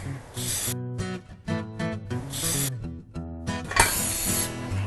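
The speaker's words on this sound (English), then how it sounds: "I'm going to spray them so that the bread doesn't stick" Non-stick cooking spray hissing in bursts over small mini loaf tins in a kitchen, several spray pulses separated by short gaps, close and fairly loud, with faint clinks between bursts.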